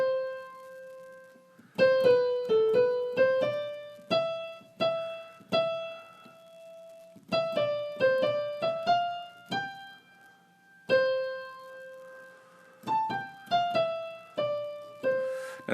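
Piano melody, played in phrases of short struck notes with ringing sustain and a steady rhythm, clear and close, with brief pauses between phrases and no talking.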